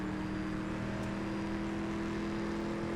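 An Aston Martin DBX 707 in the racing game CSR2 accelerates hard in fifth gear, a steady sustained engine whine and rush held for a few seconds without talk.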